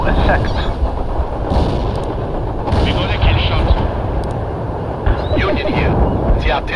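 Heavy artillery strikes pound in the World in Conflict video game, a dense, loud barrage of booming impacts and rumbling blasts rolling continuously under radio chatter.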